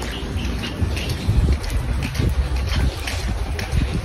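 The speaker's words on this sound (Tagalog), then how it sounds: "Bugnog ang hangin dire." Strong wind roars steadily and close against the microphone outdoors near water, with a low rumbling buffet that surges and eases without a break.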